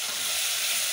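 Carrots sizzle loudly in a hot frying pan while cooking githeri, a steady bright crackling hiss with no talk.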